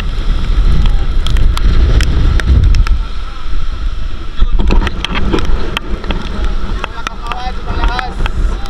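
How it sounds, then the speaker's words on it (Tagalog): Strong typhoon wind during Typhoon Tino buffets the microphone in heavy low gusts, with rattling debris and water noise, easing partway through while a person talks over it. "Dito na yung hangin galing Negros, sobrang lakas."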